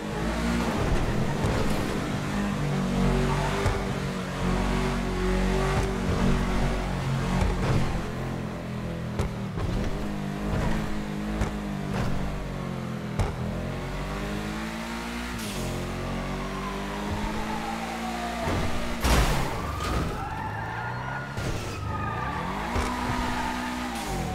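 Car accelerating hard during a police escape in GTA V, the engine revving up and down through gear shifts with tire squeals and skids, loud and close.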